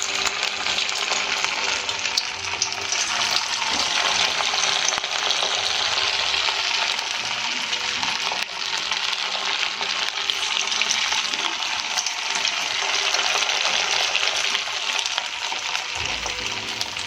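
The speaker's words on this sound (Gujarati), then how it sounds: "હવે આપણે આને ફ્રાય કરી લઈશું." Potato fries sizzle in hot oil, a dense, even crackle and hiss that runs without pause for about seventeen seconds, close and fairly loud, with no talking.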